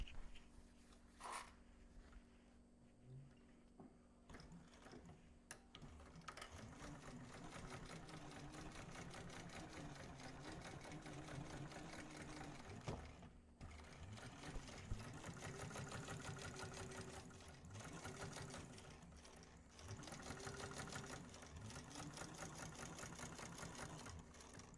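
A sewing machine top stitches a seam on a Shamballa-style fabric bag, running in a steady continuous whir for most of the clip with brief pauses and speed changes, close and fairly quiet, with no talking.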